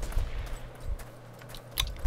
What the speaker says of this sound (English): I am hearing gunshots in the distance.